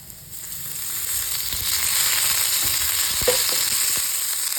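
Onion sizzles in hot oil in a pan, a steady bright frying hiss that grows slightly louder, with a few soft stirring clicks and scrapes near the end.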